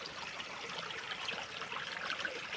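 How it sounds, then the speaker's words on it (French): A small stream flowing through a forest, a faint, even trickle and gurgle of water that continues without a break and with no voices. "je me situe en pleine nature, proche d'un petit ruisseau, en pleine forêt."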